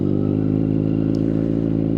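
A motorcycle engine hums steadily while riding at low speed, a close, continuous low throbbing drone with a faint rattling texture and no talk over it.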